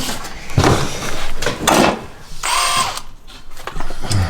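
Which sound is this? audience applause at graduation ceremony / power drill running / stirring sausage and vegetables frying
power drill running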